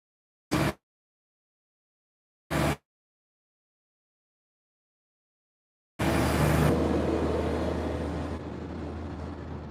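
A car passes on the road outside: two brief knocks come first, then a broad rush of road noise swells suddenly and slowly fades, with no talking.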